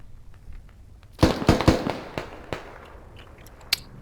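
Gunfire in the military shooter game Squad aimed at a Russian 30mm vehicle, a quick cluster of three loud sharp cracks followed by scattered fainter reports and a last sharp bang, no talking.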